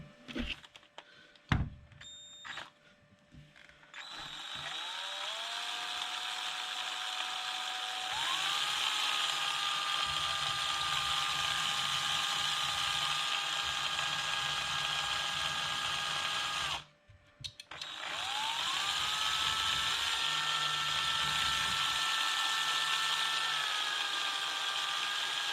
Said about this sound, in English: So I'm spinning the motor